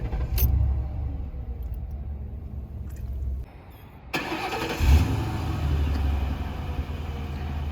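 A 4.6-liter V8 in a 2006 Ford Crown Victoria Police Interceptor cranks and catches, settling into a deep, steady idle with a brief rev, close by; a faint jingle of keys comes just before.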